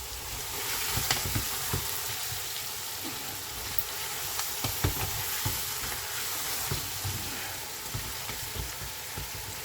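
Three large potatoes are stirred into a hot pan for vegetable biryani. There is a continuous close sizzle of frying with scattered scraping clicks and no voices.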